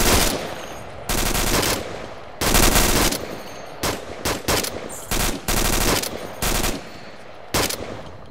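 Bursts of automatic gunfire in a military shooter game, loud and close, with long sustained volleys broken by short rapid bursts and brief pauses.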